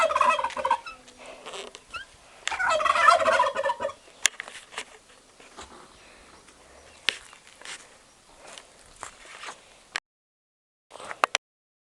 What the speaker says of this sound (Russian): Вон индюки.